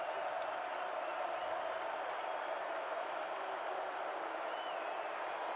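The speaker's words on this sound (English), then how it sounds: "the Bison crowd comes to its feet" Home crowd of North Dakota State Bison fans at a college football game against Youngstown State, a steady, dense roar of cheering and applause rising as they stand for a third down, continuous and broad without a break.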